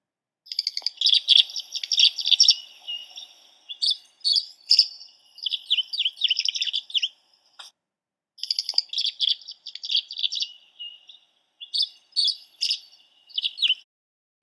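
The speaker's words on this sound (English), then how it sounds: "And the tree swallow." A tree swallow calls at close range in bursts of liquid chirps and twittering gurgles, several phrases broken by short pauses over about fourteen seconds, with no other sounds.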